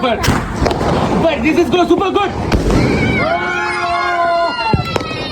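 Firecrackers crack and bang repeatedly during Diwali, sharp bursts scattered over a noisy backdrop with people talking and a whistling, crackling tail rising midway.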